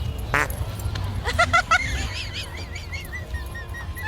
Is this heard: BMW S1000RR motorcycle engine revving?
no